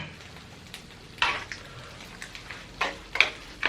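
A spoon stirs guacamole in a bowl, making a few short, soft, wet squelching strokes at irregular moments over quiet background.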